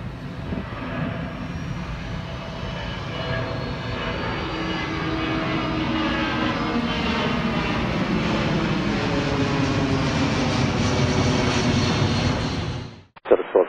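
A Delta airliner takes off from runway 27 right at Atlanta International Airport, its jet engines producing a loud, sustained roar. The roar builds and holds for about twelve seconds, then cuts off abruptly.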